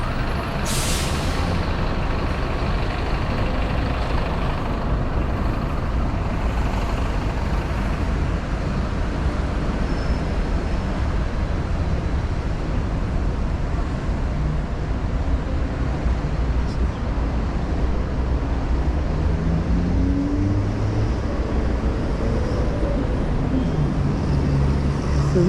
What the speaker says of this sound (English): So the road is packed with traffic.